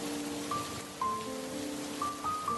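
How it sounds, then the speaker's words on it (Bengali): Heavy storm rain pours in a steady, soft wash of hiss, with a few thin sustained tones faintly over it and no speech. "ঝড় বৃষ্টিও ততই বাড়তে থাকে"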